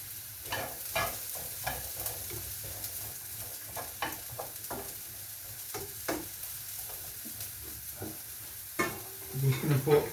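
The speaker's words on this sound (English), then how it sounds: "So We're just going to cook these cauliflowers out." A cup of cauliflower cooks in a pan, giving a low sizzle broken by intermittent scraping and tapping as it is stirred, quiet overall with a busier clatter near the end.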